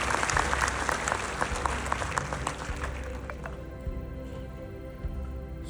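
Loud applause from the crowd at a Hindi comic poetry gathering held as a memorial, sharp dense clapping for about three seconds that thins and fades into quieter room tone.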